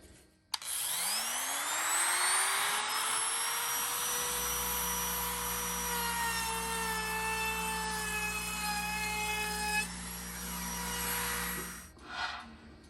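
A Ridgid R2401 router with a 5/16 round-over bit spins up with a rising whine and then cuts along a board, a loud steady high-pitched scream over a low hum for about nine seconds before winding down.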